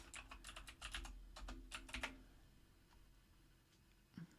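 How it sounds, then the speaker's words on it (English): Someone types on a computer keyboard at close range, a quick burst of clicking keystrokes lasting about two seconds and then going quiet, with a faint tap near the end. "you can type in, I'm going to type in family search,"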